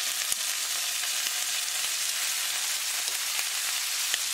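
Argentine red shrimp sizzle steadily in a hot pan with lemon, a dense continuous frying hiss with occasional small pops, close and loud.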